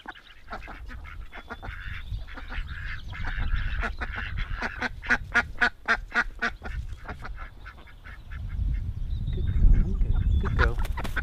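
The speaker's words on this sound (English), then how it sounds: "I think those are quite lustful calls though from the drakes." Drake ducks calling in a rapid burst of raspy, rhythmic quacks, loud and near, fading into a low rumbling background toward the end.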